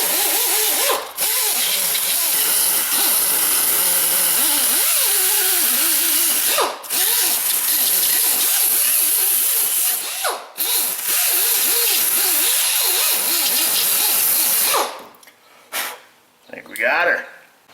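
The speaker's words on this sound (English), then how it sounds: "We're just gonna use a little Cookie Wheeler Astro 204, sweet little die grinder. Just gingerly clean this." Close, loud whine of an Astro 204 die grinder cleaning an aluminum steering knuckle for a GM front wheel bearing and hub job, running in long bursts with a few brief breaks before stopping and trailing off.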